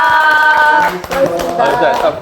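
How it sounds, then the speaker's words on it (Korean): Audience claps to close a Korean political talk show episode, a burst of hand clapping mixed with overlapping voices and some tonal sound early on, fairly loud and close, thinning briefly midway before picking up again. "경민차 5화 파란 누나를 보았니는 여러분들의 힘찬 박수와 함께 마무리하겠습니다."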